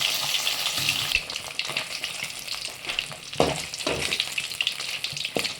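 Fish pieces fry steadily in hot oil in a pan after being flipped, a continuous bright sizzle with occasional louder crackles and spatters, close and alone without talk.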